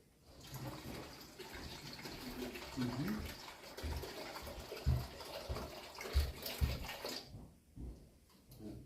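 Water pours steadily into a pot for brewing herbs, a continuous rushing splash for several seconds that stops near the end, with a few knocks, no talking.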